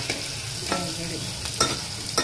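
Sliced onion frying and being stirred in a pan while cooking stuffed karela (bitter gourd), with a steady soft sizzle and a few louder scraping stirs near the end.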